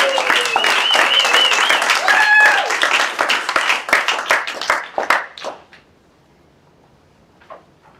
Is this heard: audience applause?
yes